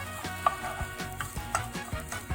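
Eggs scrambled in butter in a hot pan for a breakfast burrito, a steady close sizzle with soft scraping and stirring strokes, no voices.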